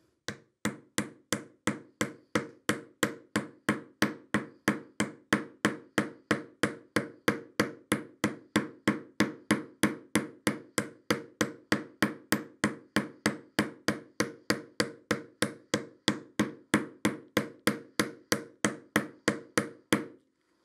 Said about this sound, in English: I'm just going to hammer, and I'm going to hammer around just sort of that bottom 2/3 of that.